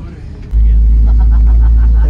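A wedding bus on a trip in Cyprus gives a deep, steady, loud engine rumble that starts abruptly and holds constant, with people talking faintly over it.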